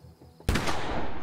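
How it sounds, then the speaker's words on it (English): A single loud, close gunshot in the video game The Quarry, a sharp blast followed by a rumbling decay after a quiet lead-in. "Just shut up and shoot, Jacob."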